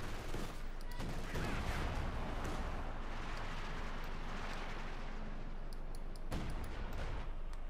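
Machine gun fire in the Company of Heroes 2 video game, with rapid, dense crackling bursts and distant explosions forming a continuous, fairly faint battle din.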